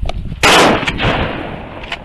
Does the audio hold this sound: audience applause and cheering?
no